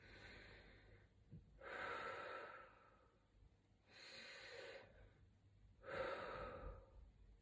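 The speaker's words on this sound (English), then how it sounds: "when I breathe with my diaphragm," Three slow, deliberate breaths drawn deep from the diaphragm, each a soft, airy rush lasting about a second, spaced evenly with quiet pauses between them, close and isolated with no speech.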